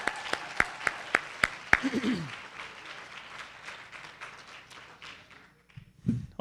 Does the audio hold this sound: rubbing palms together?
no